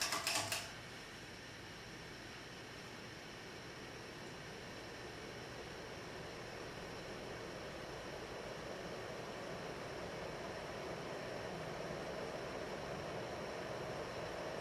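A 42-inch Antica ceiling fan spins on high speed, giving a steady, even whoosh of moving air with a faint mechanical hum that holds constant throughout, after a brief click at the start.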